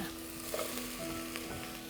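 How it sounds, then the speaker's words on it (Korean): Green onion (daepa) sizzles and fries in a pan, a soft continuous crackle with small pops and a faint stirring scrape, quiet and close with no talking. "익히면서 여기에 대파가 들어갑니다"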